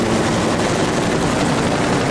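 A helicopter roars with a dense, loud, continuous rotor and engine wash that stays steady throughout, with no voices over it.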